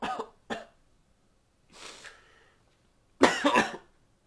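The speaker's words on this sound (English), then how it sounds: "How long have you had that cough?" Two short coughs, a quieter throaty cough after a pause, then a louder burst of coughing, each separated by silence.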